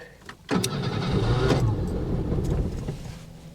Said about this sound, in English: This car always starts up first try.